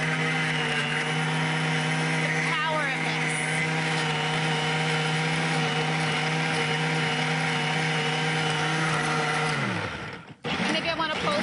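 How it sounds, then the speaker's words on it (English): A Caribbean Chiller blender whirs a smoothie with a loud, steady motor drone at close range. It winds down and cuts off near the end, with voices talking over it. "Let's talk about the blender."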